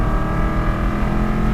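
Aston Martin V8 Vantage engine under full throttle, a loud, dense, sustained V8 roar heard from inside the car without a break.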